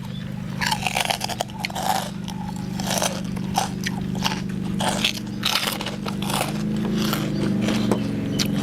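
Crispy pork rinds being chewed alongside a bowl of small rice noodles with pork nam tok and roasted chili: close, repeated crunchy bites over a steady low hum.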